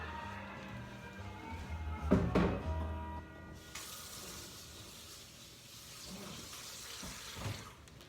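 Baking utensils are rinsed under a running tap while pre-shaping sourdough, a thumping knock early on, then a steady hiss of flowing water that carries on alone, close and moderately loud.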